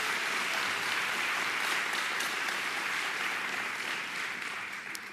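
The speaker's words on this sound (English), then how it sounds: "Can we give Anthony a round of applause?" A roomful of people at a morning talk event in New York gives a round of applause, dense even clapping that holds steady and then tapers slightly at the close.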